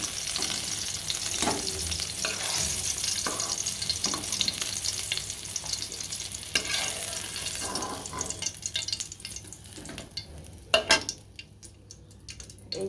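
Rohu fish frying in oil, a dense and continuous sizzle that stays close and loud and then thins out, with a few utensil knocks near the end.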